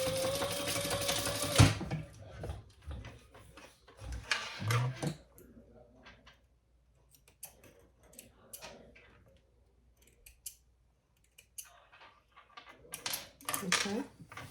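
A sewing machine runs briefly at the start, basting bag pieces together, then stops, leaving scattered clicks, fabric handling and clinks of tools, with faint talk in the background.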